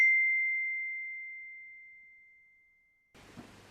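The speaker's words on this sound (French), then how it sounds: "Ding dong, ding dong" A single clear, bell-like chime rings out and slowly fades over about three seconds, followed by a brief soft rustle.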